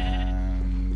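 A sheep bleats in the video game Minecraft, one short, loud, close bleat over a steady low hum.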